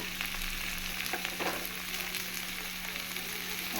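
Kashmiri chili powder and spices fry in a pan of oil, producing a soft, steady sizzle with faint scraping from stirring, close and quiet over a low hum.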